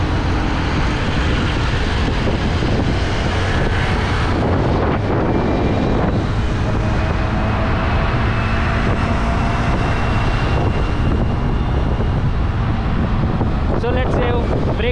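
A Honda Activa 5G scooter riding on the road and overtaking other vehicles, heavy wind buffeting the microphone over a steady engine drone, with passing traffic noise throughout.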